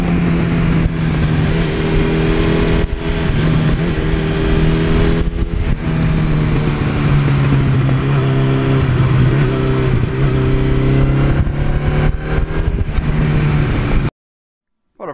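A 1982 Suzuki GS1100E motorcycle engine running, a loud steady four-cylinder drone with slight pitch shifts as the throttle varies, continuous and close, cutting off abruptly near the end.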